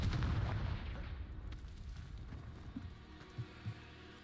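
Confringo blasting-spell explosion in Hogwarts Legacy, a loud booming blast at the start that fades into a rumbling tail, followed by a few smaller thuds.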